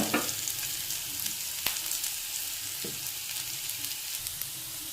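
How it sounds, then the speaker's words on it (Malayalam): Shallots, garlic and ginger sauté in a pan for a tuna roast dish, a steady close-up sizzle with occasional scrapes and taps of a stirring spoon against the pan. "ആ ഉള്ളി നന്നായിട്ട് വഴറ്റുക"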